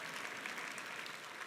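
Church congregation applause rings out as a continuous, even patter of many hands, sustained at a soft, distant level for a second and a half with no speech over it.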